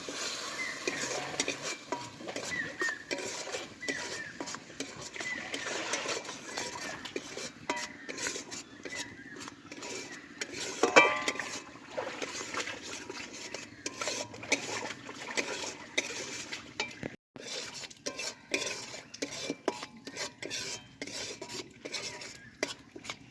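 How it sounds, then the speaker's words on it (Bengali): A spice paste of ground poppy seed for a pointed gourd curry is stirred and fried in a pan on the stove. Soft sizzling runs underneath as a utensil scrapes and taps the pan steadily and close by. "একসাথে মশলাটা ভালো করে আমি কষে নেব।"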